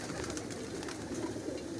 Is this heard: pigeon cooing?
yes